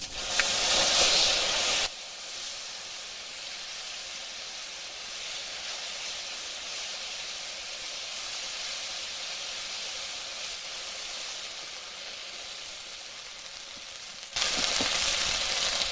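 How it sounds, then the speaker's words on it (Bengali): Ground spice paste dropped into hot oil with cumin and dried red chilies, a loud, steady hiss of sizzling that holds for about twelve seconds, close up and alone, with sharper spattering bursts at the start and end. "বেটে রাখা মশলাটা দিয়ে দিলাম।"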